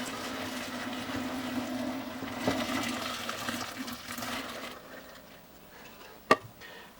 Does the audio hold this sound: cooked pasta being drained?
yes